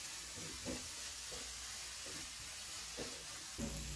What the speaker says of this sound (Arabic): بصل مفروم ناعم يعني بحدود بصلتين كبار، نضيف الملح لحتى نساعد البصل إنه يدبل